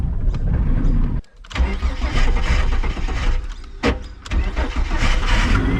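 A Barra engine with no rev limiter cranks and fires, then revs loudly and unevenly, with a brief drop around a stall before it catches and roars again close up.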